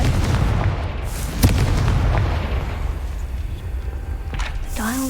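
A Confringo blasting spell goes off in Hogwarts Legacy as a loud, rumbling explosion that opens the clip and slowly fades into a sustained low roar, with a brief sharp burst partway through.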